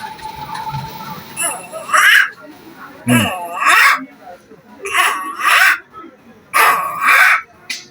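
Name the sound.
person imitating the call of a kura bird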